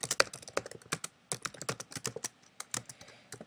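Rapid keyboard typing, crisp clicky keystrokes in irregular bursts, close and clear with no voices.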